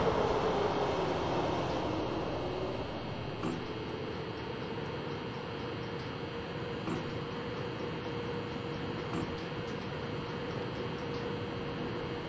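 A train in a train-simulator game produces a steady mechanical rumble and hiss, starting slightly louder and then holding even, with faint periodic clicks and no voices.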